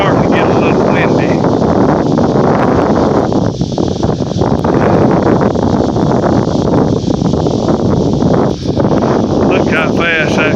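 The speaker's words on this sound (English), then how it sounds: "It's starting to get a little windy." Gusty wind before a derecho storm in Oklahoma roars steadily against the microphone, loud and unbroken throughout, with rustling underneath.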